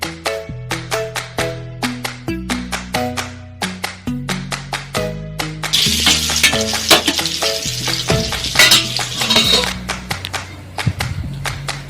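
Fish roast frying in hot oil, first mostly buried under loud tonal background music, then a steady, bright sizzle rising clearly from about the middle onward while the music keeps playing over it.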